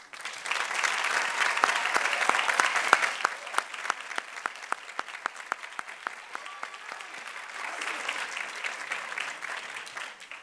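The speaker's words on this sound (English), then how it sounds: "we can give them a round of applause as well." A college commencement crowd applauds board members at the 2011 Scripps College ceremony: a loud dense burst at first that thins into scattered individual claps, then swells slightly again toward the end.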